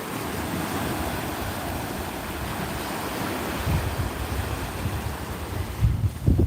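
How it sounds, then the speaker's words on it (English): Ocean surf washing in steadily as the tide comes in at a beach, a continuous broad roar of breaking waves with wind buffeting the microphone and a few louder surges toward the end. "the tide's coming in"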